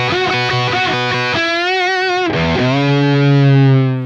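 A heavily distorted electric guitar plays a solo lick, a quick run of repeated picked notes that ends on a long sustained bend, loud and up front with no talking.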